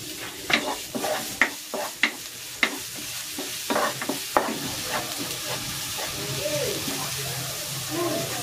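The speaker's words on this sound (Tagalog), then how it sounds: "Igigisa ko na tong bawang" Garlic sautéing in hot cooking oil, a steady close sizzle punctuated by sharp taps and scrapes of a spatula stirring in the pan, no talking.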